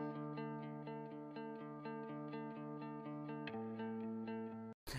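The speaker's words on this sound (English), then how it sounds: "we're going to just listen to the guitar track, which sounds like this." A recorded electric guitar track played back alone, thick and distorted, with sustained chords struck in a steady rhythm and a shift to a lower chord near the end before it cuts off abruptly.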